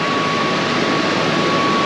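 A steady, loud, continuous engine roar without breaks from a Pontiac GTO, likely a damaged motor, held at high revs on a dynamometer pull, with no speech over it.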